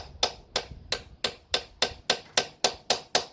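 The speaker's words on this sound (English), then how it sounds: "Maybe this chisel just to pry it apart a bit." A chisel is tapped to pry something apart, producing about eleven sharp, evenly spaced knocks in quick steady succession, close by.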